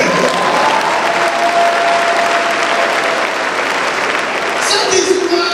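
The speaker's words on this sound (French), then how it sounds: "Acclamons pour le monde intérieur." A church congregation at a worship service applauds in a loud, dense, sustained burst of clapping that fills the whole stretch, with voices mixed faintly into the crowd noise.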